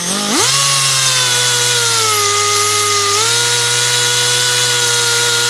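Pneumatic rotary polisher spools up quickly into a loud, close, high whining spin, holds steady, then its pitch shifts slightly partway through as it runs on, with no talking.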